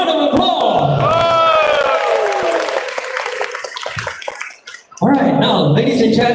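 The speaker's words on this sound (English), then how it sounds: "A round of applause." Crowd at an iQOO Neo 10 phone launch event in Malaysia applauds and cheers loudly for several seconds, a brief dip before the noise surges back up, with voices mixed into the clapping.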